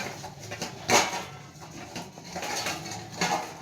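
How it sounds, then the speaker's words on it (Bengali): A metal lid is set onto a kadai of simmering katla fish curry. There is one sharp close clank, a few soft knocks, then a lighter tap near the end. No one speaks. "এবার আমি এই কড়াটাকে কী করবো বলো তো, ঢাকা দিয়ে নেবো যাতে তাড়াতাড়ি কাজটা হয়ে যায়।"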